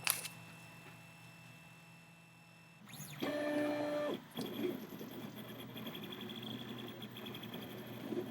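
A two-color 3D printer running, slowed down by its slicer software, gives quiet motor whirs and stepping tones that rise in pitch and change pattern in bursts over a low, steady hum.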